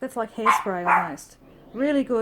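A pet dog barks a few short, sharp times indoors during a craft session, close to the microphone and partly overlapping someone talking.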